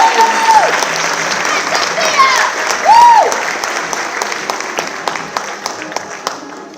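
Audience applause at a student award ceremony, steady clapping from a crowd with a few brief whistles or cheers cutting through, gradually thinning toward the end.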